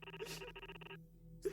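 A telephone rings in the horror video game White Coat, Red Hands, a faint electronic warbling tone sounding in short repeated bursts, then pausing before ringing again.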